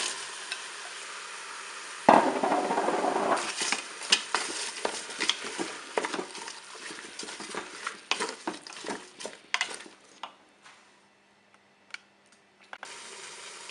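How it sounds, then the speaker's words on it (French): Bell peppers tipped into a Cookeo multicooker pot land with a sudden loud clatter and then sizzle, followed by several seconds of stirring scrapes and light knocks that thin out toward the end. "Je vais maintenant ajouter les poivrons."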